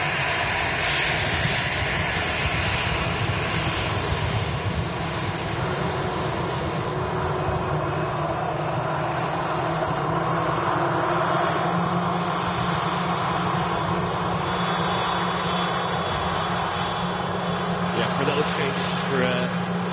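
An easyJet airliner at Manchester Airport, its jet engines making a loud, sustained roar with a steady drone throughout, while someone talks over it.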